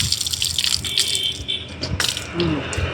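Water runs steadily through a paddy field area near Jaffna, a loud, close gushing and rattling flow that carries on without a break.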